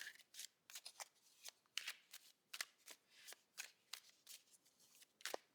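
Osho Zen Tarot cards being shuffled close up, a series of quick riffling bursts in an uneven rhythm, soft and intimate with no talking.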